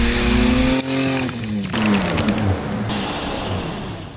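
A Haval H9 SUV revs hard through swampy mud on a 4x4 trail in North West South Africa, its engine loud and close, rising and falling in pitch under a steady wash of churning noise.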